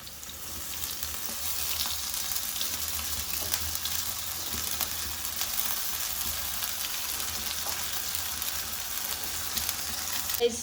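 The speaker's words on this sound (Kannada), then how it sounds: "ಹಸಿ ವಾಸನೆ ಈರುಳ್ಳಿ ಹೋಗೋದಾದ್ರೆ ಶುಂಠಿ ಬೆಳ್ಳುಳ್ಳಿ ಪೇಸ್ಟ್ ಹಾಕೋದು." Ginger garlic paste frying with onions in a pan gives off a steady, even sizzle and hiss throughout, with occasional light stirring scrapes and no talk.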